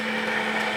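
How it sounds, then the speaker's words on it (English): Immersion blender running while making mayonnaise, a steady high-pitched motor whine with a constant hum, close and unbroken. "I'm going to put the immersion blender in."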